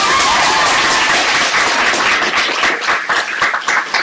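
A live audience at a show in England cheers and claps steadily, a dense wash of hands and voices that stays loud and close throughout, with a few sharper claps toward the end.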